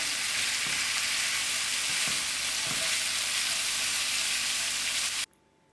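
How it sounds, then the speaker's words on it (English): Minced meat for shepherd's pie frying in a pan, a loud continuous sizzle with a few soft stirring knocks, cutting off abruptly near the end. "I'll allow this mince to actually fry out"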